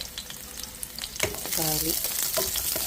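Garlic fries in hot coconut oil with a steady sizzle that swells after a clatter, while a short tonal squeal and brief kitchen knocks sit over the frying.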